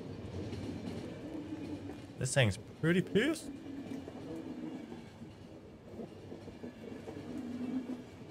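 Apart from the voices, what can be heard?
moving train in The Final Station video game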